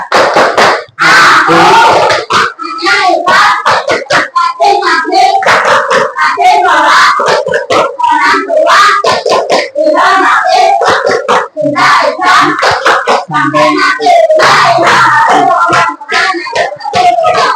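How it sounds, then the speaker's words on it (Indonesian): Children clapping along to a rhythmic chant in an Islamic school classroom: loud, punchy claps in patterned bursts mixed with shouted group voices, close and energetic throughout. "Tepuk anak soleh."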